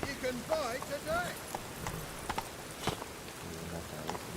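Hooves of Roach, the horse in Witcher 3, clip-clopping at a steady gallop over a soft ambient bed, with faint voices and game sounds mixed in.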